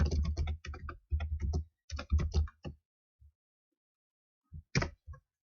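Computer keyboard typing in short bursts of rapid, close clicks, with pauses between runs and a final few isolated taps, during work on a Maya Python script.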